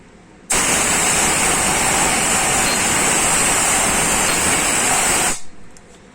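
Pressurized air hisses loudly and steadily through the intake channel of a 4G63T engine cylinder head during a valve pressure test, starting abruptly, holding for about five seconds, then cutting off.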